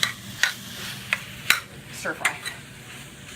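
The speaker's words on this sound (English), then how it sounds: "I'm gonna add one more ingredient into this here stir fry" Tofu scramble stir fry sizzling in a pan, with a soft continuous fry hiss broken by sharp scraping clicks of a utensil stirring against the pan every half second or so, close up and without talk.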